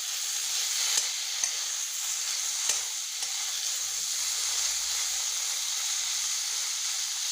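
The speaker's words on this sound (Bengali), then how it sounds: "আর পনিরের টুকরোগুলো এখন ভেজে নেব।" Paneer pieces fry in a little ghee in a wok over a low flame, giving a steady, close sizzling hiss throughout with a few faint clicks and no talking.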